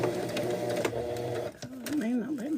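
A sewing machine runs steadily while stitching a bag at a 2.5 stitch length, its whirring motor clear and close for most of the moment before stopping as a voice begins talking.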